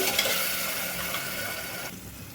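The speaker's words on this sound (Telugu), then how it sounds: "ఆయిల్ సపరేట్ అయిన అయితే వేయించుకోవాలండి పచ్చివాసన మొత్తం పోవాలి అప్పుడు దాకా వేయించుకోవాలి" Coriander paste frying in oil in a pan, a steady close sizzle with light stirring scrapes, dropping off slightly near the end.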